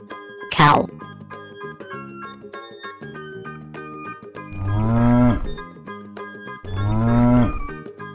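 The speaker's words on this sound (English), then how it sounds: "Cow." A cartoon cow in a children's animal video gives two long, loud moos, with a short bright jingle before them and light music running underneath.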